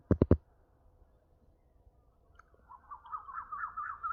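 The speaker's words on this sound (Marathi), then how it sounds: "पक्ष्यांचा आवाज येतो तुझा" Birds call in a mangrove forest: a few sharp clicks at the start, then a quiet stretch before a faint, wavering high call rises and repeats near the end.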